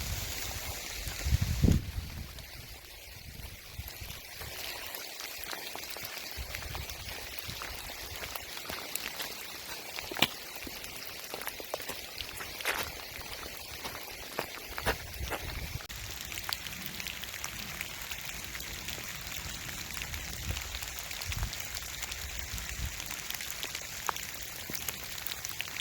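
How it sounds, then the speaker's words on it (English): Heavy rain pours steadily during a hike, a dense hiss of drops on surfaces with scattered sharper taps and a few louder knocks, continuous and fairly close for the whole stretch with no voices. "And yes, it's pouring, and yes, we have times where the wind is really getting up"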